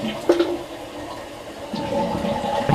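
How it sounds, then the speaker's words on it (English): A household toilet flushes nearby after its flapper has been cleaned or replaced to fix a slow leak, with a sharp lever clunk followed by a rushing, gurgling surge of water that builds toward the end. "I'll give it a quick flush to give it a final test"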